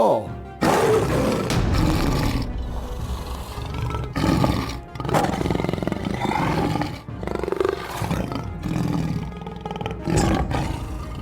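Deep, rumbling roars from a tiger in an animated story, repeated in loud bursts over several seconds with a busy, dramatic background.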